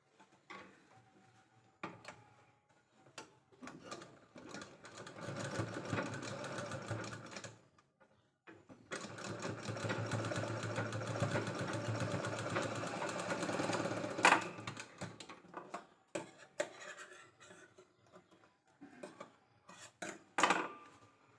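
A sewing machine stitches a strip of leftover blouse border fabric, with two sustained close runs of whirring stitching separated by a short pause, and light taps and fabric handling around them.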